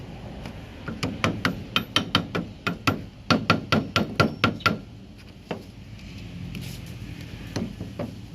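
A hammer taps holes in a paper gasket in quick, regular, sharp strikes, about two dozen in a row, then a few scattered taps and quiet handling noise.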